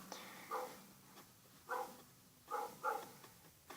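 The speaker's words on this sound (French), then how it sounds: "Excusez-moi si vous entendez les chiens." Dogs bark in the background, faint and distant, with four or five short, sharp barks spaced irregularly over a quiet room tone.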